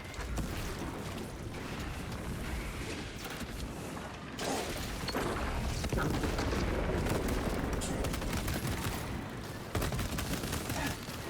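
Heavy rapid-fire gunfire and booming blasts from the Space Marine 2 video game, dense bursts of shots continuing throughout with mechanical clanks mixed in, fairly loud and close.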